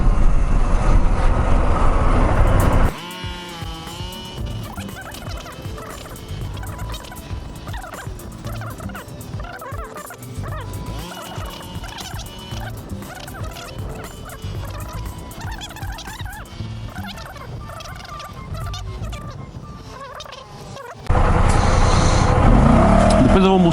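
Wind roars steadily inside a motorcycle helmet at 60-70 km/h, a dense, loud rushing that swells heavier at the start and again near the end, with no clear voices.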